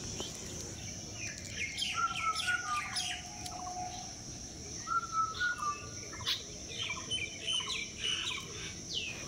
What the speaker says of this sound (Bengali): কোকিল পাখির ডাক শুনতে পাই।